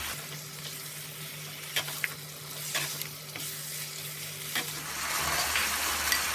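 Chicken frying on high heat, a low steady sizzle with occasional stirring scrapes, the hiss swelling louder toward the end.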